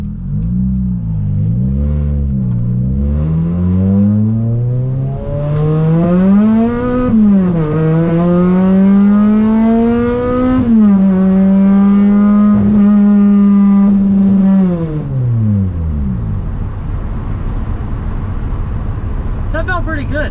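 Supercharged Toyota Celica running on nitrous, engine climbing steadily in pitch through a couple of gear changes toward 60 mph, loud and close, with the revs holding high before the engine drops off near the end and goes quiet.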